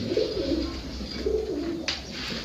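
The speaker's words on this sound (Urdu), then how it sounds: "یہ غٹک رہے ہیں کبوتر" Pigeons coo softly and repeatedly over a steady background hum, with one brief sharp click near the end.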